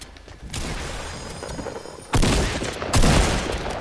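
Guns fire in a first-person shooter video game: bursts of close, loud shots and a sustained volley, with two sharp, heavy reports near the end, with no voices.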